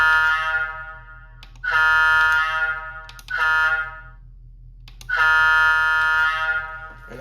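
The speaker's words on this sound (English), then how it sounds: "The horn is a Wabco E2." A Wabco E2 horn from a Rapido PA-1 model locomotive DCC sound decoder, giving three sustained blasts, a long one, a short one, then another long one, each steady and loud over a low mechanical hum, with no talking.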